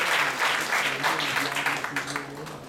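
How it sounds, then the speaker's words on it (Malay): An audience at an official address applauds with a loud, continuous burst of many hands clapping, while a voice is faintly heard beneath it. "Satu tepukan yang dulu kepada kita semua."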